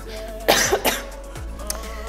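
A few short, close coughs come in a quick cluster, with a throat-clearing rasp, followed by quiet background.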